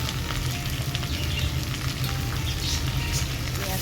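Chopped onion frying with potatoes in a pan for a sea crab dish gives a constant, close sizzle with no voices over it.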